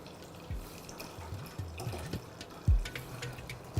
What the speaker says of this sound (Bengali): ফ্লেমটাকে লো করে এবার আপনারা দুধটাকে অ্যাড করে দিন।